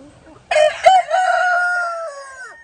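A two-year-old Asil rooster crows loudly and close by, one long drawn-out call rising sharply then holding before trailing off, with faint background noise before it.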